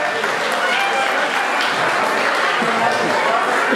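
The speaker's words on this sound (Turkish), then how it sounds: "Alkışlar düğün sahiplerine gelsin." Dense, steady applause from guests at a wedding honouring the hosts, a continuous wash of clapping from a crowd that fills the whole stretch.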